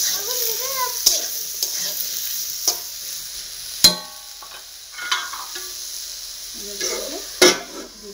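Crushed ginger goes into a hot frying pan, sizzling steadily while a utensil stirs and scrapes, with several sharp clinks against the pan standing out over the frying.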